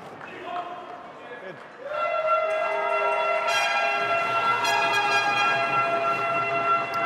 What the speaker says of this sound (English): swing these cowbells constantly